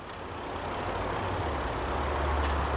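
A used car's engine idles with the oil dipstick pulled out, giving a steady, even low rumble with a constant mechanical hum, close and unbroken from start to finish.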